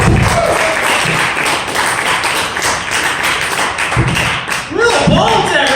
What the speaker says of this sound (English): Everybody give a big round of applause to Kevin Braga, Tito Dameron, both of you brothers.